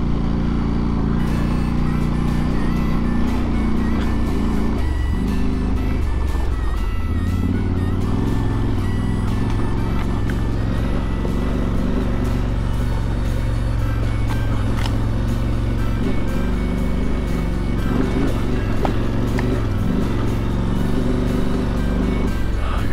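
A KTM 890 Rally adventure motorcycle ridden over off-road terrain in Colorado, its engine droning loud and close throughout with wind rumble, shifting pitch as the rider rolls on and off the throttle.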